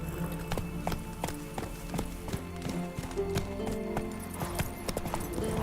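Horse hooves clip-clop at a steady galloping rhythm in The Witcher 3 video game, close and fairly loud over game music, with a faint whinny and brief talk nearby.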